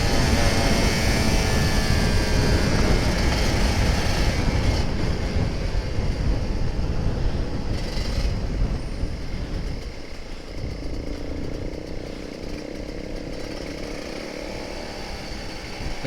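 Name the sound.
Kawasaki Ninja RR 150 motorcycle engine accelerating on ride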